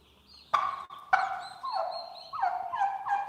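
Turkeys gobble while being fed boiled eggs alongside their young poults, a series of loud, close, wavering gobbles that overlap and come in quick bursts, with no talking.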